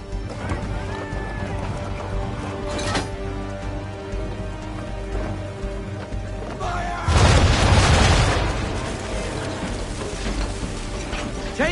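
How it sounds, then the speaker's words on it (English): Powder barrels in Assassin's Creed III erupt under swivel gun fire, a loud booming burst swelling over a steady mechanical and watery game backdrop, with a smaller thump a few seconds earlier. "Hit those old powder barrels and light up the sky."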